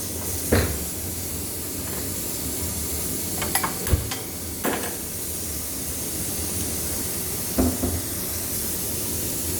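Payasam with added water is stirred in a pot as it cooks for a Sravana Friday offering: a few soft scrapes and knocks stand out against a quiet, steady hiss.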